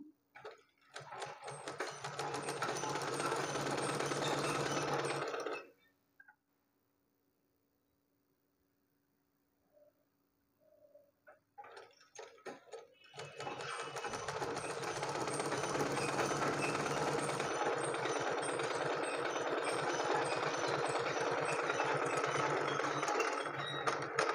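Sewing machine stitching a blouse seam, running in a long rapid burst, stopping for several seconds of near silence, then whirring again steadily for a longer run.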